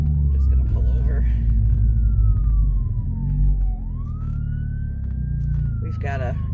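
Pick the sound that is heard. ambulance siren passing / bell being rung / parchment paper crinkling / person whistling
ambulance siren passing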